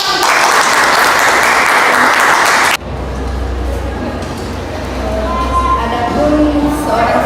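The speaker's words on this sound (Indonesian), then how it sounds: "Tepuk tangan." An audience bursts into loud, dense clapping that stops abruptly partway through, giving way to a quieter room murmur with faint voices.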